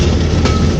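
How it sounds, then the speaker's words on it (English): Brief steady rumble of an original railroad speeder built around 1975 running on rails, loud and close, with continuous rolling wheel noise and no speech. "And this is one of 3 speeders that we have that are original to the railroad."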